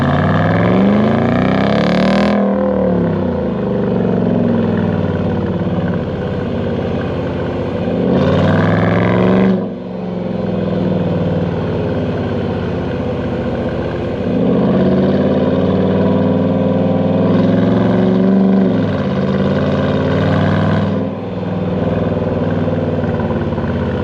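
A 2021 Dodge Durango R/T AWD engine revs hard from inside the cabin, loud rising sweeps through the gears with brief dips between, three or four strong pulls over a steady throaty drone.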